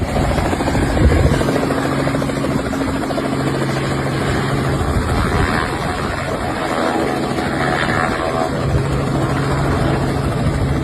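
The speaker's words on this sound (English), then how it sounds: "Residents of this street clearly did not expect a helicopter to land near their homes." A helicopter comes down to land close to houses on a residential street, its steady rotor and engine roar loud and continuous throughout, with no voices heard.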